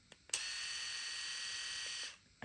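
A smaller Xiaomi Mijia electric shaver running alone, a steady high buzzing whir that starts after a couple of clicks and holds for about two seconds before cutting off.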